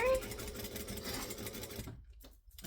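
A sewing machine stitching a curve, a close rapid mechanical whirring hum that runs steadily for about two seconds and then stops abruptly, with a voice speaking over it.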